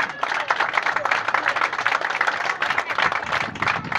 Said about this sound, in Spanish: Aplauso para ellas.